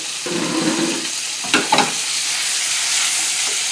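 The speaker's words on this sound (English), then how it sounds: "I'm going to add a little bit more of this olive oil, and now I'm going to add these scallions and broccoli" Scallions and broccoli stir-fry in hot olive oil with a steady, bright sizzle, broken midway by a few quick clattering stirs. The frying runs on evenly and up close, with no talking.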